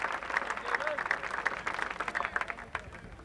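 Masters gallery at the 1995 final round applauding Davis Love III and Greg Norman, a sustained wash of many hands clapping at moderate distance, steady and dense without sharp peaks.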